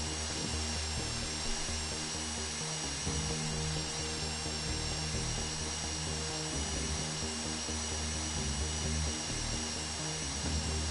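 Continuous mechanical drilling during a GTA Online heist, a steady grinding whine with dense rattling texture, holding an even level throughout.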